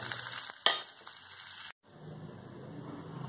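Okra pieces frying in hot oil with onions and green chillies for a ladies finger curry, a steady close sizzle with a sharp stirring clatter, then a brief cut before the frying hiss resumes.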